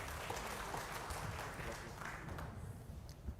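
Faint, distant applause rises from an audience at a redevelopment association briefing as a presenter is welcomed, soft and diffuse, with some murmuring mixed in.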